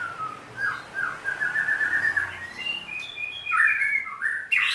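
A murai batu (white-rumped shama) of the red-capped variety sings nearby in clear, loud whistled phrases: sliding notes and bright trills in quick succession with brief pauses between, and no voices.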